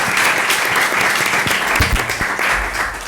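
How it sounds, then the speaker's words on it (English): Loud, close applause from a conference audience at an education forum, a dense continuous crackle of many clapping hands throughout with a few heavier low thumps. "I think we can get them a round of applause"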